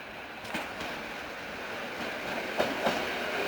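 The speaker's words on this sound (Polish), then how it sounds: "pociąg bodajże z Wrocławia" A Koleje Dolnośląskie passenger train from Wrocław rolls past at Kłodzko Główne, a steady rumbling wash broken by a few sharp rail-joint clicks.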